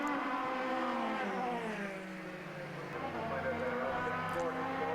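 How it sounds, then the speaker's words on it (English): Formula BOSS race cars screaming side by side in a drag race to the finish line, engine notes sweeping down and climbing again as the cars pass close, with race commentary talking over the roar. "It's a drag race to the finish"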